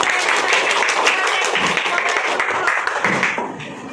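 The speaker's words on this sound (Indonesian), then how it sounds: "Oke, tepuk tangan." A classroom of children claps hands together in a brisk, dense burst of applause that fades slightly toward the end, close and lively.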